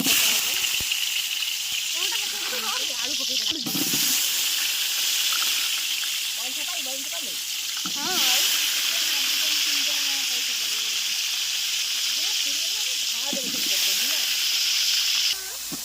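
Potatoes frying in hot oil in a home kitchen give a steady broadband hiss and sizzle throughout, with a few brief bursts of stirring or bubbling standing out near the pan.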